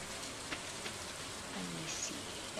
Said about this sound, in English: The computer knows it's raining as well as us